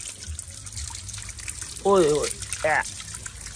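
Dirty water that sat unused in a tank for five to six months flows out in a steady trickling wash, while a voice calls out loudly over it.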